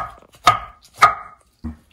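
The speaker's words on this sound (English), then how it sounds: "I'm gonna keep chopping." A knife chops fresh spinach on a cutting board in three sharp, close strikes, the first two evenly spaced and the third after a short pause, with quiet between the cuts.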